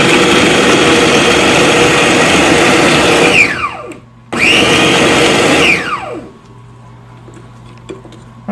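A food processor grinds sausage for stuffed mushrooms in two loud, sustained whirring runs, each winding down with a falling pitch, then leaves only a quiet room hum.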